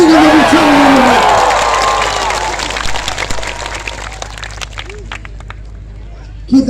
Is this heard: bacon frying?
no